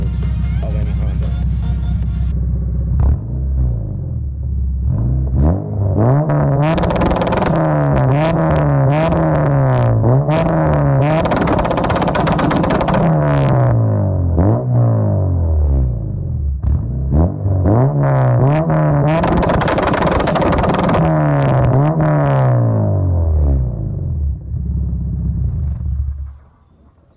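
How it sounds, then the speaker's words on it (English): An Acura RSX with an aftermarket exhaust revs repeatedly, its note climbing and falling in rhythmic sweeps over a deep rumble in two long bursts of throttle, loud and close, before cutting off. "I'm gonna go ahead and show you guys why I love the exhaust that I chose for my car"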